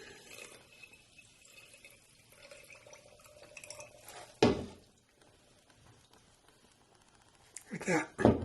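Distilled water is poured over hide glue granules, giving brief splashy pours and trickles between quieter stretches, with a couple of louder bursts near the end.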